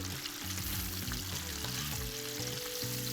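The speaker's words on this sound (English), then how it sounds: "make sure I'm checking onto my chicken pieces that are frying" Chicken pieces fry in a pan with a steady, close sizzle running throughout, broken by occasional faint stirring; no one speaks.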